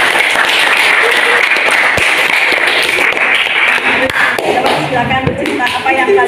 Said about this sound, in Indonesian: tepuk tangan untuk yang lain.